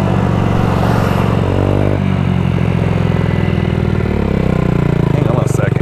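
Honda Ruckus scooter engine running nearby with a loud, uneven mid-pitched putter that shifts rhythm a couple of times, overlaid with rattly clatter like a loose license plate bracket vibrating.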